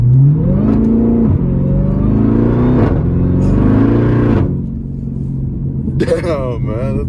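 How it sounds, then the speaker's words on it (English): Modified Jeep Trackhawk with an upgraded intake, its engine revving loudly and repeatedly while warming up, close by: deep rising and falling roars in several bursts, settling lower before a final sharper rev. "Okay, like the engine's just warming up."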